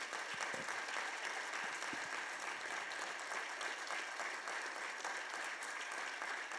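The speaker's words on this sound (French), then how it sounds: "Donc on applaudit toute l'équipe et Lucien." A crowd at a regional reuse and recycling conference claps for the organizing team, a fairly soft but continuous patter of applause that holds steady from start to finish with no voices on top.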